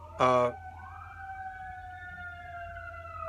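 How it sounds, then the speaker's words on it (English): A short horn blast, then fire engine and ambulance sirens wailing with long rising and falling tones, fairly distant and continuing steadily. "Oh no, that's a fire engine and an ambulance."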